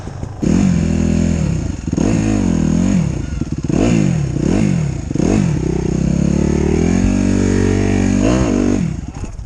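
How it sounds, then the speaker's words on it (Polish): An enduro motorcycle engine in winter starts up and revs, with repeated rising and falling throttle blips over a steady, loud, close idle, and no talking. "ciężko pali na sprzęgle, tak? Także trzeba go wyrzucić najlepiej na luz i wtedy pali z pierwszaka"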